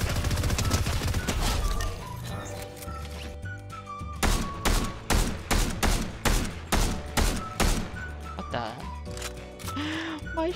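Rapid bursts of gunfire from a Fortnite match, dense at first then settling into a steady run of sharp, evenly spaced shots over game music, loud and close throughout.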